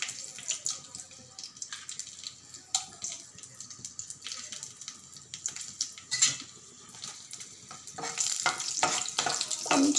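Dried red chillies sizzle and crackle in hot oil in a home kitchen while amla pulihora is being prepared, giving a steady close frying hiss with brief clinks from a stirring utensil, and the sizzling grows louder near the end.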